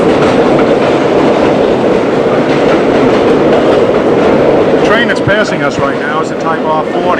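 A New York subway Type R40 car, bought around 1970, rumbles past with loud steady wheel roar and clatter, ending in higher squeal-like tones as a voice speaks over it.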